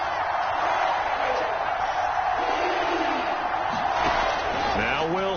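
Steady roar of a stadium crowd at a football game, broad and sustained at mid distance, with a commentator's voice over it and a few whoops rising near the end.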